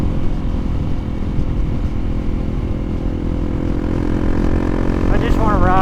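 A Honda CRF300L dual-sport motorcycle is ridden on a spring day, its engine drone and wind rumble loud and constant throughout, with a faint rising whine near the end.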